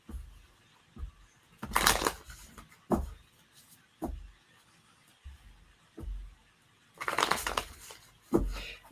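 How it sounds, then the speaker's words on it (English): Tarot cards shuffled by hand during a live reading session, heard as a series of brief rustling riffles and soft taps, with two longer, louder shuffling bursts among quieter single flicks and no talking. "as I'm shuffling this energy into this deck"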